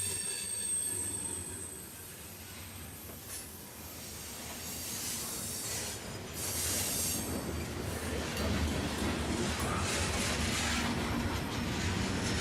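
A CSX freight train of empty grain cars rolls past on the CE&D Subdivision, a steady rumble with wheel squeal and faint clickety-clack, building louder midway and staying close, with no talking.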